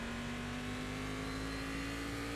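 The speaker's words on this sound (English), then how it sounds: "I am inspired by the sound of the engine" A race car engine in a racing simulator game holds a steady, droning tone that stays loud and continuous throughout, with no talking over it.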